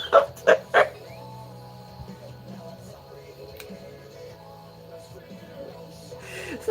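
Dog barking: three sharp, loud barks in quick succession at the start, followed by quieter background sounds and faint murmuring.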